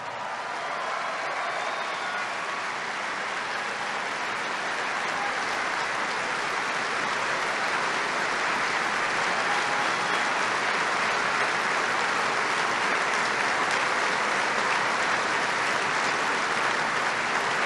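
Sustained applause from a large farm convention audience at a presidential speech in Nashville, a thick, even roar of clapping that holds steady and slightly swells over many seconds with no voice on top.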